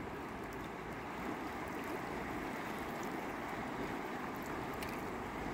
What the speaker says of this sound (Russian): Вон как бурлит речка.